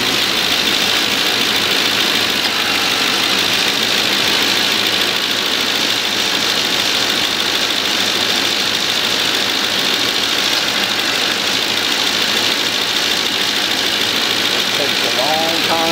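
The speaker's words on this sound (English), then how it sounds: "to hear the compressor kicking on with more frequency" A Ford Crown Victoria engine idles with a steady, even hum and faint mechanical vibration throughout, with a brief higher click-like chatter near the end as the AC compressor kicks on.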